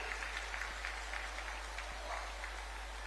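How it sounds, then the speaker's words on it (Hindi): Applause from an audience at a public government event in Jharkhand, faint and steady, heard at a distance beneath a constant low electrical hum, with no clear voices. "तालियां आपकी ओर से जोरदार होनी चाहिए।"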